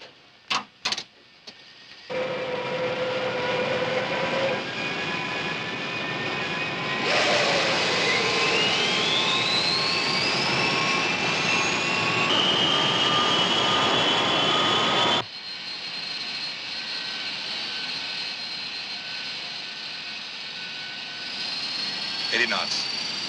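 Airliner engines spool up for takeoff in a radio drama effect, a broad steady roar with rising whine that swells, sustains loud for many seconds, then drops to a lower cruising drone, with brief voices at the start.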